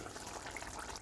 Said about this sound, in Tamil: நல்லா கொதித்து வற்ற விடணும்.